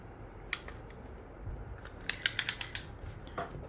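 Scissors snip through lengths of yarn for a crochet flower, a quick run of about five crisp, close cuts after a few softer handling clicks in a quiet room.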